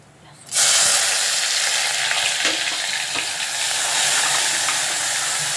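Onions drop into hot oil seasoned with asafoetida, setting off a sudden loud sizzle that holds as a dense, close hiss with light stirring scrapes throughout.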